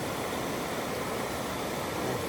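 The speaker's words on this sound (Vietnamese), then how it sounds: "Thấy tiếng suối chảy thích không?" A mountain stream flowing steadily nearby at night, a continuous broadband rush of water with no breaks, fairly soft and even throughout.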